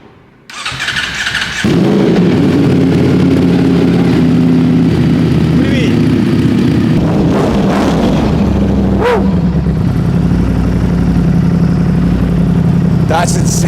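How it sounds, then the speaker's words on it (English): A 2025 Ducati Panigale V4 with a low-mount exhaust fires up from cold, a sudden loud start settling into a fast, rough high idle with occasional sharp blips, close and continuous. "This is going to be my first ever cold start on a 2025 Ducati Panigale V4 with that beautiful low mount exhaust."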